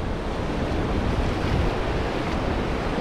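Ocean surf at El Cuco beach in El Salvador, a steady broadband wash of breaking waves with wind rumble on the microphone, loud and continuous throughout with no voices.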